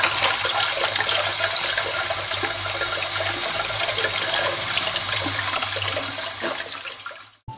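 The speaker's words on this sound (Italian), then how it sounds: "adesso andiamo a lavarlo sotto acqua rigorosamente fredda," Cold tap water runs steadily over a bunch of parsley being washed, a loud constant rushing stream that cuts off abruptly at the end, with no talking.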